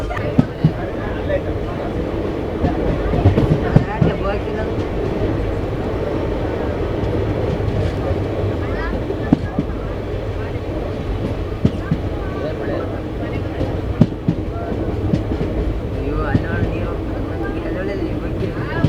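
The Vishwamanava Express, a passenger train from Hubli to Bengaluru, runs on the rails with a continuous low rumble and rattle. Sharp clacks of the wheels recur over the tracks, and voices are heard at times in the carriage.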